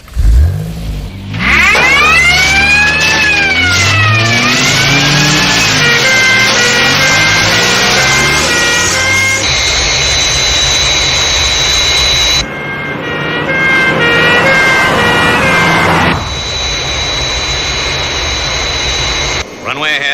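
Crash tender sirens wailing at a runway, rising and falling tones that shift into steady high-pitched blasts, heard loud and close over engine roar, with brief cuts between sections.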